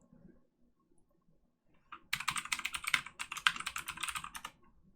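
Rapid tapping on a keyboard as an email address is typed into a mobile app login screen, a close burst of clicks lasting about two and a half seconds after a near-silent start.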